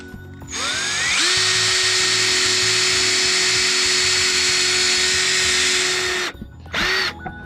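A power drill bores holes in sheet metal during a CB radio install, whining steadily and loudly for about six seconds, then cutting out before a short second burst.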